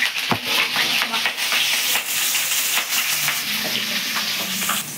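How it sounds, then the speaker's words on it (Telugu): Long-cut green chillies deep fry in hot oil, giving a loud, steady bubbling sizzle and hiss close by with small crackling pops throughout. "పచ్చిమిర్చి ఇట్లా పొడుగు కట్ చేసుకుని ఆయిల్ బాగా డీప్ ఫ్రై చేసుకోవాలి"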